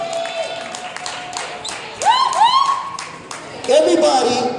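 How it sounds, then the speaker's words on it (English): An audience claps for performers who have just been on stage at a school event, with scattered applause and a few whoops of cheering mixed with talking over the top. "Give them a nice round of applause"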